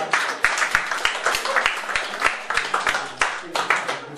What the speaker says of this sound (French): Ça s'acclame, hein.